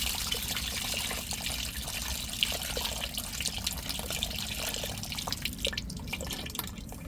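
Tamarind water pours steadily into a simmering fish curry made with ribbonfish, a continuous close trickle and splash running through the whole stretch without voices.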